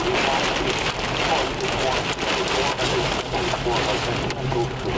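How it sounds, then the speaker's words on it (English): Large hailstones drumming hard on a moving car during a violent August storm with urban flooding in the Twin Cities, Minnesota, a dense, loud, continuous clatter with a voice speaking over it. "there's some big hail down here"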